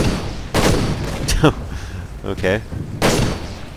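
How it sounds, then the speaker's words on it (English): Gunfire in the video game Toy Soldiers, a few separate heavy shots and bursts spaced across a few seconds, with a brief spoken word in between. "So I can just shoot at random in the group here"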